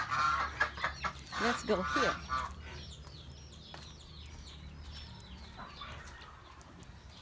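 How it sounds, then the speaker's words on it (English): A chicken clucks on a rural farm property in San Juan Moncada, Tarlac, Philippines, its calls fairly close and mixed with other birds, while a person speaks briefly over the first couple of seconds. "And that's a chicken."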